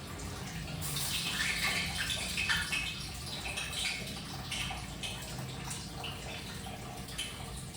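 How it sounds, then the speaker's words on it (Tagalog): Water pours from a tap into a cooking pot in a home kitchen, a fairly faint splashing stream that runs steadily for several seconds. "Lagyan muna natin ng tubig."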